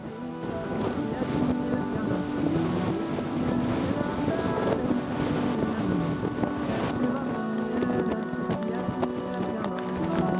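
Strong wind blows across a bouldery Scottish mountain ridge near the summit, a steady, loud roaring buffet with microphone rumble that never lets up.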